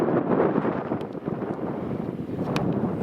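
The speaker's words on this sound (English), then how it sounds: "As you can hear, the wind is getting up now." Wind rising over the Aegean Sea during Meltemi season, heard from a boat: a steady, broad rushing roar buffeting the microphone throughout, with faint wave and water wash underneath.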